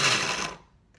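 A blender grates turnips with a short, loud motorized whir that cuts off within about half a second, followed by a faint rattle.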